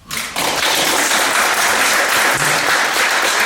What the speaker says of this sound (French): Un applaudissement de tonnerre, s'il vous plaît.